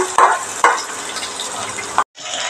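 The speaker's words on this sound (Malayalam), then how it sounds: "സവോള ഒന്ന് വഴന്ന് വരട്ടെ" Sliced onions sauté in a pan for a potato curry: a steady, close sizzle with a few scraping stirs, then a brief break before the frying hiss resumes.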